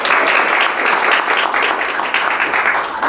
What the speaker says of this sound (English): I do just want to give an extra round of applause for Megan